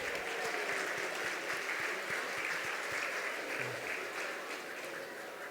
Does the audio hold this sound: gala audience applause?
yes